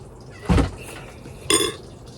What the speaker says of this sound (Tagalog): Hugas ng pinggan.